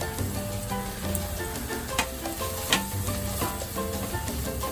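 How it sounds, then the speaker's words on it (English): Finely chopped onions and green chilies fry in two tablespoons of oil in a pan, giving a steady, close sizzle with light crackles and occasional stirring clinks. "I have added 2 tablespoons of oil, to which I will be adding the finely chopped onions and the green chilies."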